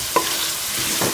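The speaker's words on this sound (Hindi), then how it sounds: "दोनों को जो है वो अच्छी तरह से मसाले के साथ भून लेंगे 5 से 6 मिनट के लिए" Potatoes and green chickpeas fry with spices in a pan, a steady close sizzle with one brief scrape of stirring near the start.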